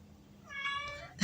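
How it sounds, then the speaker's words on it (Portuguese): A domestic cat gives one short, clear meow close by in a quiet room, cut off by a louder noise at the end. "é meu gato, gente"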